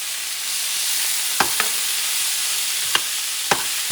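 Beans being stirred into arroz con pollo frying in a pan: a steady, close sizzle with a few short scrapes and clicks from the spoon, and no talk.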